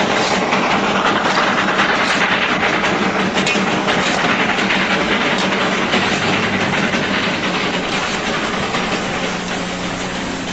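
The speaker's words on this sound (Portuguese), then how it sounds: "Dezoito pequenas locomotivas correm para frente e para trás na linha Darjeeling-Himalaia." A small locomotive on the Darjeeling Himalayan Railway in India chugs and rattles along with a steady, dense mechanical rumble and clatter, loud and close throughout, without talk.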